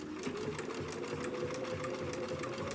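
Sewing machine stitching rickrack trim onto fabric, a fast steady rattling run of the needle, close and continuous for a few seconds with no talk.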